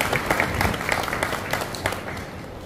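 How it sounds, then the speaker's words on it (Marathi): Applause at a retirement honour ceremony, a short burst of crowd clapping that stays even and moderately loud for a few seconds. "सर्वांनी एकदा जोरदार टाळ्या वाजवून स्वागत करावं"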